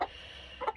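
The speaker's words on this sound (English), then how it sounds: "two of those are hens, and one of them's a rooster" Two half-grown hens and a young rooster cluck quietly nearby in a garden setting, a couple of soft, brief clucks in a short moment.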